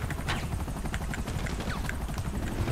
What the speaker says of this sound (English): Ignore the helicopters.